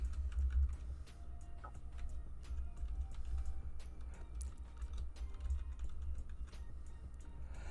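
Soft, steady typing on a computer keyboard, with a continuous run of light clicks and low thuds close by over a quiet low hum.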